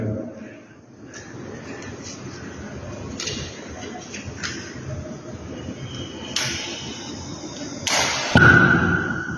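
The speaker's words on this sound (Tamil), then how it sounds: "ஹைட்ரஜன் வாயு வெளியேறதுனால பாப் சவுண்டு கேட்குது." Hydrogen gas escapes from a container where magnesium ribbon reacts with hydrochloric acid, giving a single sharp pop near the end after a stretch of low, steady background noise and a few soft clicks.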